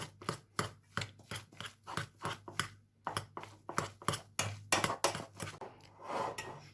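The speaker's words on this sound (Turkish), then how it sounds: "Hemen Patatesim haşlandı. Sıcakken ezelim." Hot boiled potatoes being mashed in a bowl, a close series of soft, squelching thumps repeating in a fairly regular rhythm, each stroke with a short wet crunch, with no voices.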